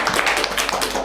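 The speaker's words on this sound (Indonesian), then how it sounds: "Wah, bagus, tepuk tangan." A short burst of dense, quick clapping from an audience at a lecture or teaching session, close and fairly loud with no talk over it.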